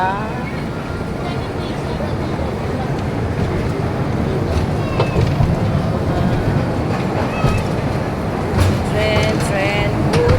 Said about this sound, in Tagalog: Train. Woot, woot. Train.